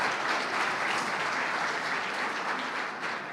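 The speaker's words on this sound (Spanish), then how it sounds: "le damos un aplauso" Congregation at a church plenary session claps together, a full, continuous burst of applause that stays strong and even before easing slightly toward the end.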